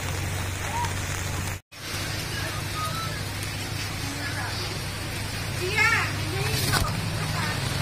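Steady rain hisses throughout in Pampanga, Philippines, with children's voices and chatter faintly in the background and a brief dropout partway.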